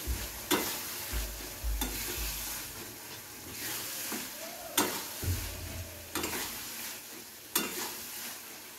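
Garam masala is stirred into a frying Bengali prawn curry, Shankar macher jhol, with periodic spatula scrapes every second or so against the pan over a low, continuous sizzle and hiss.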